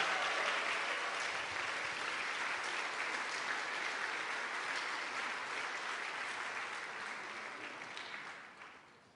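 Congregation clapping at a combined church choir festival service fills the room as a dense, steady roar, then tapers off at the end.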